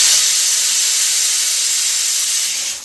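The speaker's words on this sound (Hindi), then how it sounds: "कुकर में रखी है आलू उबलने के लिए" Pressure cooker on a kitchen stove boiling potatoes, releasing a loud, continuous hiss of steam that holds steady and tapers off at the very end, with no voices.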